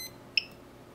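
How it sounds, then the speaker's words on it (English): The motors of a budget hexacopter under $300 beep while the radio receiver is being tested: one short, clear electronic beep in otherwise quiet surroundings. "We're gonna have to just deal with this beeping because I don't feel like unhooking my motors for this."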